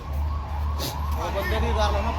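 An ambulance siren arrives at a road accident scene in Punjab where a tractor was involved. A faint wavering wail rises in the second half over a low rumble of traffic and the crowd.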